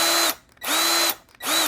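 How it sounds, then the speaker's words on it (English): Ryobi One+ cordless drill whirs up in three short bursts, each a loud high-pitched motor whine spinning up and stopping, separated by brief silences. "your drill should turn on"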